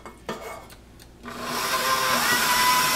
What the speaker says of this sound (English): We're gonna put it in the mixer. We're gonna start beating it up.